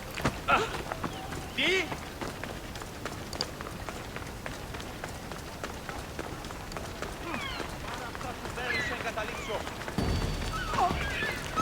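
Horse hooves clip-clop at a run in the Assassin's Creed Odyssey game, steady galloping beats with game ambience and occasional voices over them.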